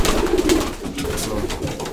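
Racing pigeons coo softly nearby in a low, burbling, repeated pattern, with faint background rustle.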